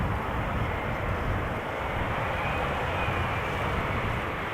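A KLM Boeing 787-10 Dreamliner arrives at Amsterdam Schiphol on a sunny July day, sending out a loud, steady broadband engine rumble that stays even throughout without speech.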